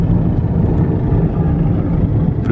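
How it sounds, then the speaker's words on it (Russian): Helicopter coming in low to land near a hospital, a loud steady rotor and engine drone dominated by deep rumbling low-end throbbing, continuous throughout with no voices. "Здесь, смотрите, вот вертолет садится."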